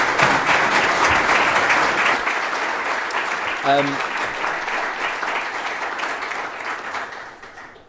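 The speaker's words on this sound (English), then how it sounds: "Please can we give a round of applause" A conference audience at a Greater Manchester development update gives a panel a long round of dense clapping that gradually tapers off, with a voice briefly speaking a name over it.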